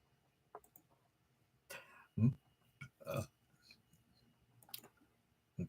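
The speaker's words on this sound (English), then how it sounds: "I apologize for my burp." A low, croaky burp from a man on a live talk stream rises out of quiet background, followed by a few softer mouth clicks and brief murmurs, close to the microphone.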